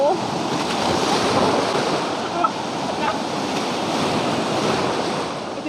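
Strong sea waves washing onto a sandy beach: a loud, continuous broadband rush of surf with wind noise on the microphone, steady throughout with only slight swells.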